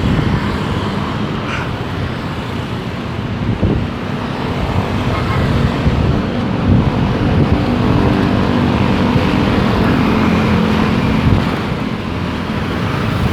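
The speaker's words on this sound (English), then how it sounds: "Lots of motorcycles in the Philippines," Motorcycles and cars pass along a road in the Philippines, making a steady, close rumble of engines and tyres that stays loud and continuous throughout, with a faint voice now and then.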